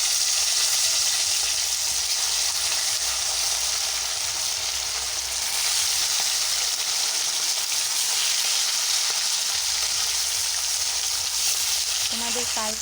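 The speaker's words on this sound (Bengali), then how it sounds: "এবারে মাছগুলো কড়াইয়ের মধ্যে দিয়ে দিচ্ছি।" Fish pieces fry in hot, lightly salted oil in a kadai with a loud, steady, close sizzle and crackle that runs unbroken throughout, with occasional stirring sounds toward the end.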